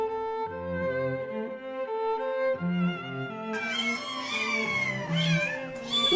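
A kitten meows repeatedly in a series of close, clear, tonal calls, some short and some drawn out, with the later cries rising higher and more insistent.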